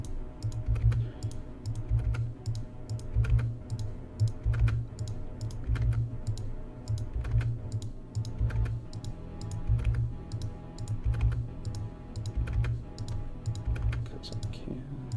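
Rapid mouse clicking during a Quest for Glory speedrun: quick, evenly spaced sharp clicks repeating steadily over a low background hum.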